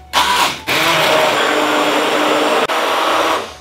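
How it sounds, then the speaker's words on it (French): A food processor blends meatloaf ingredients with milk and garlic, a loud close motor roar that starts, briefly stops, resumes and runs steadily with one short break before cutting off, no talking. "Et on mixe."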